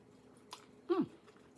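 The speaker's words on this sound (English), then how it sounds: "See, it still has a crunch to it." Crunchy barbecue shrimp coated in cornstarch, salt and pepper is chewed up close, with a couple of faint clicks, then one loud crunching bite and a brief chewing sound in a quiet room.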